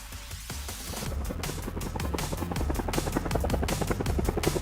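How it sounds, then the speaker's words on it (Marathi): Small mini plane or helicopter-type aircraft setting down on a narrow hotel rooftop helipad, its rotor or engine beating in a steady, loud rapid pulse that grows slightly stronger throughout, with no talking. "त्यावरती सहजपणे मिनी विमान उतरवलं जातंय"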